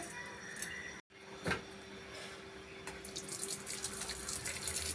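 Water pours and splashes into a sink, starting after a brief pause and building into a steady running stream, as cooking water is drained off boiled greens.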